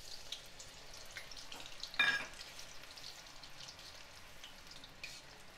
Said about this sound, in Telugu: ఇవి చక్కగా వేయించుకోవాలి.